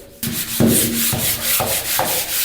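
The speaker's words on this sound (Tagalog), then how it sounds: "ngayon naman, pader ang ating kikiskisin at ating pupunasan pagkatapos nito" Close, rhythmic strokes of sanding on a wall in a storage room, four or five gritty rubbing passes in quick succession, no voices.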